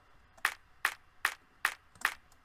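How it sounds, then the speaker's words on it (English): Clap sample from Cymatics Savage in a dubstep track, five crisp, evenly spaced electronic claps, dry and moderately loud, repeating in a steady rhythm. "One small clap right here, and then another one."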